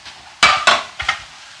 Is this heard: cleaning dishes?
yes